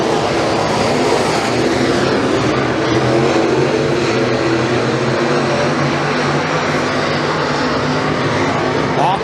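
RUSH late model race cars roar down the front straightaway at a dirt raceway, a dense continuous wall of engine noise from several cars, loud and steady throughout.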